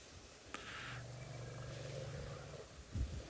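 An elephant on a South African safari gives a faint, deep, drawn-out low rumble lasting about two seconds, heard quietly from a distance amid soft outdoor background noise.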